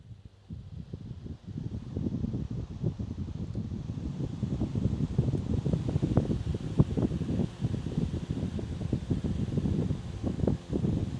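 A retro desk fan runs steadily close by, giving a low rushing, buffeting whoosh of moving air that swells slightly after starting and then holds without pause.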